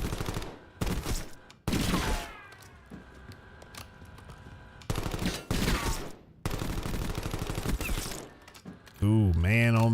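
Rapid bursts of gunfire from a video game weapon, loud and close, arriving in short clusters separated by brief pauses, with a voice talking over parts of it.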